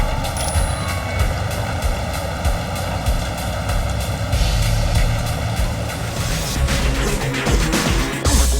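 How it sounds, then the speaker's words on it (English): Helicopter strafing the deck during an Omega Base level of Marvel: Ultimate Alliance on Xbox 360, a steady loud rotor and engine roar with crackling gunfire and impacts over a dense game mix, without talk. "a helicopter keeps strafing the deck"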